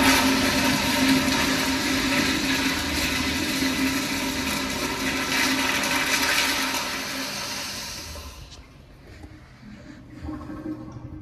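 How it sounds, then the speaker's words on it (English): A toilet in a men's restroom flushes long and loud, a roaring rush of water for about eight seconds that cuts off abruptly into quieter refilling gurgles. "Longer flush than usual."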